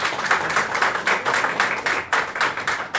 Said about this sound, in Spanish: También el aplauso es para ustedes.